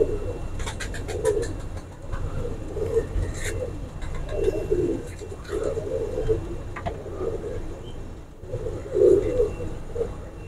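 Pigeons coo repeatedly in soft, throaty bursts, several birds close by, with steady low background noise throughout.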